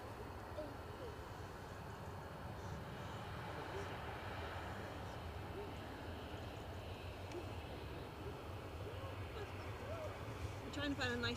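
A KLM Embraer 195-E2 jet arriving at Edinburgh Airport from Amsterdam makes a distant, steady engine rumble, faint and continuous under background noise.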